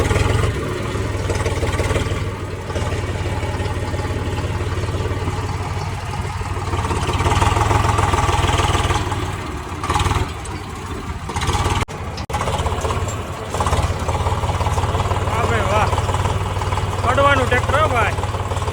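A tractor engine idles on a farm with a steady low rumble throughout, close and continuous, while people talk over it.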